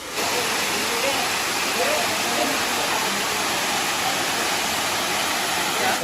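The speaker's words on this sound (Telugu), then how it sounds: "శ్రీశైలంలో ఎంత పెద్ద వాటర్ ఫాల్స్ ఉందని చాలా మందికి అస్సలు తెలియదు" A large waterfall at Srisailam roars as a dense, steady broadband rush, loud and continuous from start to end with no breaks.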